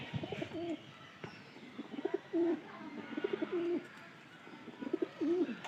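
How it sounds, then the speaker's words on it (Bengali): Several racing pigeons coo nearby in soft, rolling phrases, repeated at intervals over a quiet background. "এটা ডাক ভালো আছে, কবুতরের ডাক ভালো"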